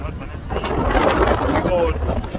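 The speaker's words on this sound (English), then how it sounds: "The wind kind of strong as I can see from my shirt" Strong seaside wind buffeting the microphone in a constant low roaring rumble, with a voice faintly mixed in.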